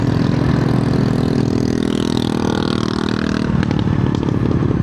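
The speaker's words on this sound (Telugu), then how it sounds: "సైలెన్సర్ పీక్ పడేసి ఏదో డ్రర్ అని కొట్టుకుంటుంది ఎగ్జాస్ట్" Motorcycle with its silencer removed, the open exhaust roaring loud and steady up close, coarse and rumbling throughout with a slight shift in tone near the end.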